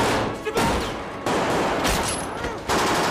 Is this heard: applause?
no